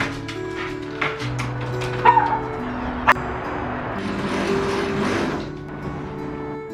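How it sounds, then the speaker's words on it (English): A dog at home in an apartment gives soft whimpers and a few short yips and barks, fairly close and moderately quiet, with light household noise around. "Don't go barking."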